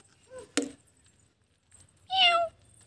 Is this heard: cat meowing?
yes